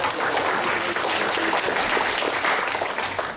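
Audience at a District 5 community meeting claps steadily in a sustained round of applause, dense and fairly loud, with no voices standing out.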